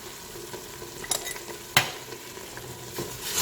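Ginger and turmeric sautéed in a pan for couscous give a steady, fairly quiet sizzle, with a few sharper scraping knocks from stirring and no voices.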